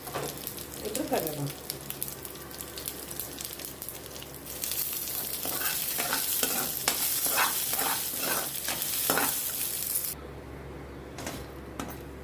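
Spices and garlic crackle and sizzle in hot oil as tempering for brinjal chutney, with rapid popping bursts and the scrape of a spoon stirring the pan; no words spoken.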